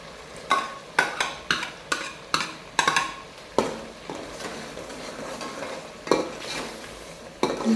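Masala with green chillies stirred and cooked for paya in a pan: a steady run of scraping spoon strokes over a soft sizzle, close and fairly loud, with no talk.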